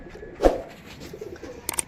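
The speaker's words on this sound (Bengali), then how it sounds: "খুব সুন্দর পায়রা, খুব সুন্দর পায়রা" A male pigeon kept in a wire loft gives soft, low cooing close by, with a couple of light thuds and faint clicks around it and no talking.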